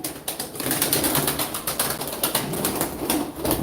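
Pigeons coo and rustle nearby amid a dense, noisy flutter of wings and bird sounds, steady throughout with no talking.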